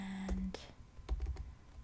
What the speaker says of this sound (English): It's for the typing sounds